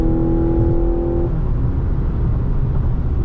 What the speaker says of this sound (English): The engine just came on.